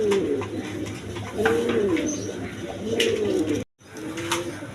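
Two big pigeons of matching size coo in repeated throaty, rolling phrases, close and clear, separated by short pauses and with a brief drop-out near the end.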